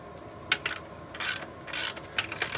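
A ratchet tightens the brake rotor bolts on a Kaabo Wolf King electric scooter in a few quick, close bursts of clicking and rasping, separated by brief gaps.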